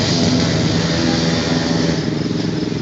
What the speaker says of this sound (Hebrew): כל אופנוע יש את הצליל מנוע המגניב שלו.